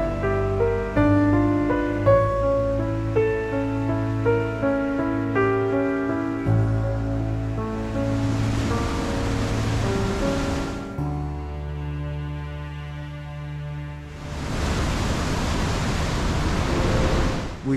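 The Trümmelbach waterfall, which plunges inside a mountain in Switzerland, gives a broad, steady rushing roar in two long bursts, heard between and under sustained music.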